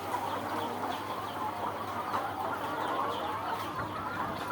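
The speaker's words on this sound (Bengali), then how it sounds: "আরও যে এখানে মুরগির বাচ্চা আছে" Chickens on a poultry farm keep up a continuous mix of overlapping clucks and chatter, a busy flock heard close up over a steady low hum, without talking.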